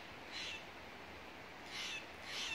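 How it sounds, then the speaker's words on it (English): A blue jay calls outdoors on a hiking trail, giving three faint, harsh, distant cries spread across a quiet background. "it's a blue jay"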